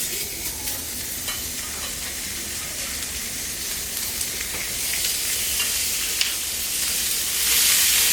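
Hot dogs sizzle loudly and continuously on a hot grill, a dense crackling hiss that swells slightly toward the end with no talking.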